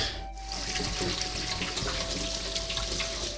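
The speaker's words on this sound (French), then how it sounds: "Je suis en train de mettre les crevettes dans la passoire, puis après ça, on va les rincer." Tap water runs steadily through a colander as shrimp are rinsed, a continuous close splashing hiss that starts after a brief pause and carries on unbroken with no talking.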